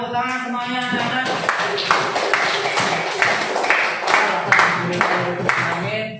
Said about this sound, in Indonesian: Ya, tepuk tangan semuanya anak-anak